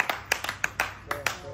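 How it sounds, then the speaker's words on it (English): A few scattered claps from a small church congregation, about nine sharp irregular hand claps spread over a moment, fairly close and moderately loud, with no talking. "Give it a round of applause."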